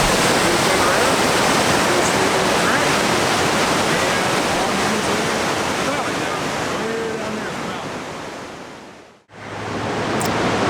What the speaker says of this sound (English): Water comes down through here. There's rapids straight down.